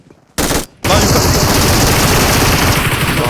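Loud, sustained automatic gunfire in PUBG Mobile, opening with a brief burst, a short pause, then a dense, continuous hammering of shots right up close.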